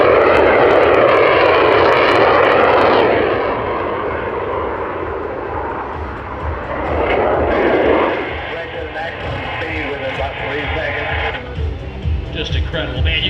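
A Yak-110 display aircraft with an added jet engine roars loud and close at the Pacific Airshow Gold Coast as the jet is pushed up to power, a heavy sustained rumble that dips and surges again, with radio-style talk over it.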